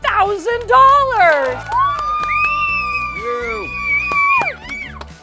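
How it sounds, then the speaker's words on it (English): Young children at a school award presentation shout and cheer loudly in high, sustained voices, with a rising squeal and a few claps underneath. "Even the 5-year-olds don't clap for the plaque, but they do clap for that check"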